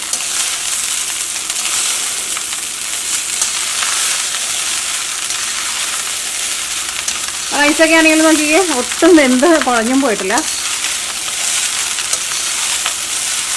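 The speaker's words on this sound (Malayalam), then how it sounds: "ആ റൈസൊക്കെ മുരിയുന്ന സൗണ്ട് കിട്ടില്ലേ." Fried rice crackles steadily as it is stirred in a hot pan, a loud close sizzle running throughout while a voice speaks briefly over it partway through.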